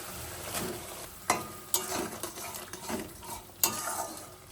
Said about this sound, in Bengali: গ্রেভিটা একদম টকবক করে ফুটে উঠেছে, দিয়ে দেবো ভেজে রাখা চিংড়ি মাছ।